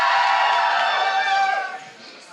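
Audience at a drag show cheering and whooping together, a loud sustained roar of many voices that fades toward the end.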